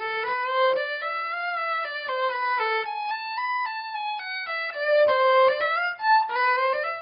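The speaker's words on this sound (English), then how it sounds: "give us a taste of what this amazing violin sounds like" A handmade copy violin from an Ottawa violin maker's workshop plays a solo melodic line of bowed notes, clear and close, moving smoothly between pitches with brief pauses between phrases.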